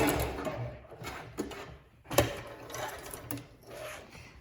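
A sewing machine stitches the arms and legs of a panda tote in place, running in several short, uneven bursts of close, soft rhythmic whirring.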